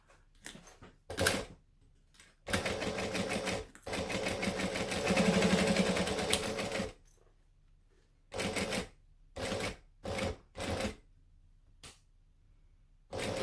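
Sewing machine back stitching slowly through thick layered fabric while making a bag, heard as several bursts of close, loud motor whirring with pauses, including one long run and short repeated spurts.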